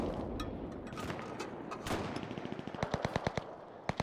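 Gunfire in the WWII shooter game Enlisted: faint, rapid bursts of automatic fire with a rolling, echoing rattle, ending in a quick string of distinct sharp shots.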